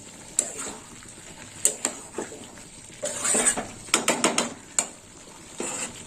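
Vegetable stalk curry with mustard paste stirred in a pan, sharp metallic scrapes and clinks in irregular bursts over a faint sizzle, close by with no voices.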